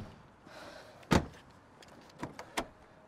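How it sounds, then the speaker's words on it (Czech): A car door slams during a police call-out at a playground, one sharp, close thud followed a moment later by a couple of lighter clunks over a quiet outdoor background. "zavři dveře"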